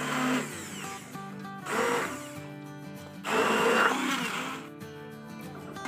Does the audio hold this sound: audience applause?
no